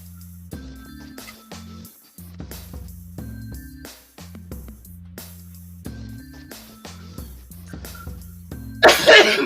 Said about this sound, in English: I'm coughing a little bit more.